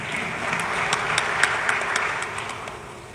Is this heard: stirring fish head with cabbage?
no